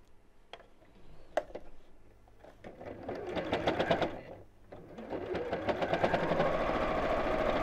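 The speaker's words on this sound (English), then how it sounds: "So just make sure that I've got the right sides together and sew down the seam here." A domestic sewing machine stitches a seam through two pieces of fabric placed right sides together for a pin cushion. A few clicks lead into fast, steady stitching, close and loud, with a short pause before the machine runs on continuously.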